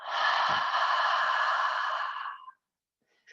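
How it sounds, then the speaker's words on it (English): A person breathes out through an open mouth during a yoga practice, one long, breathy, close exhale lasting about two and a half seconds before trailing off into silence. "Open your mouth. Exhale."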